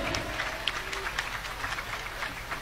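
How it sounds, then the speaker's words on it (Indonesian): An audience at a school debate final claps for the finalists, a fairly faint, even patter of applause heard from a distance with little else. "Tepuk tangan sekali lagi buat para finalis."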